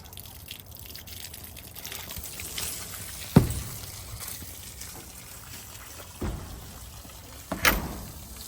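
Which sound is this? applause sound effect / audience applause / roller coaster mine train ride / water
water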